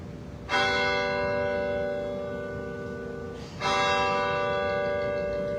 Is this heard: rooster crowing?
no